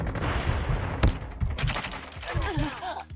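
Gunfire in the mobile shooter COD Mobile, with dense bursts of automatic rifle shots and heavy thuds close by, a player talking over the action.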